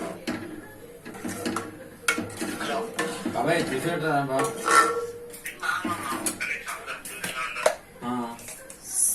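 A spoon stirs and scrapes dal with added water inside a metal pot, with irregular clinks and knocks against the metal, while a person talks over it.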